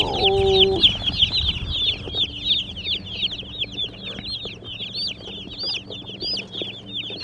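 Newly arrived baby chicks from a hatchery peeping constantly, many high chirps overlapping near and loud, with a brief low tone and clucking at the start.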